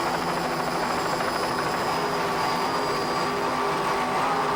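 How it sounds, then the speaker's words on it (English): Twin 575-horsepower JPS engines on a racing powerboat roar in a continuous, dense drone at an offshore race near Key West, loud and close with no break and no voices. "Just listen to those JPS engines, two 575 horsepower JPS"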